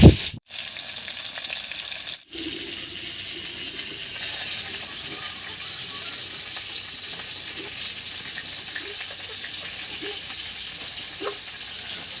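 Rohu fish pieces fry in oil in a village kitchen, giving a steady close sizzle and crackle for the whole stretch, broken by two brief dropouts near the start; no one speaks.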